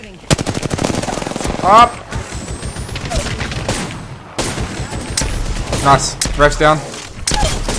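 Rapid automatic gunfire from Apex Legends plays loud and close in several long bursts, with brief pauses between volleys and players talking over the shooting.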